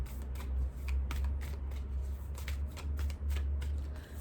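Tarot cards shuffled by hand, a steady run of crisp riffling bursts close by over a low background hum, with no talking.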